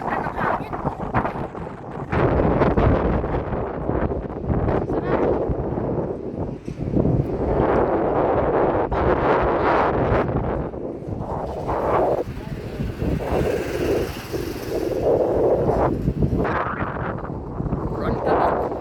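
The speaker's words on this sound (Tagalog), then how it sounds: "Ganda ng hangin." Gusty wind roars against the microphone throughout, a dense low rumble that rises and falls, with faint voices now and then underneath.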